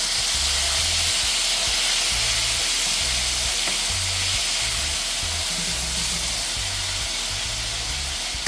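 Pork chops sear in a hot pan for a bourbon glaze, a loud, steady sizzle and crackle of frying fat running throughout with no voice.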